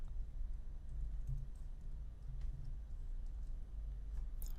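Computer keyboard typing, a steady stream of light soft keystrokes over a constant low hum, quiet and close with no talk.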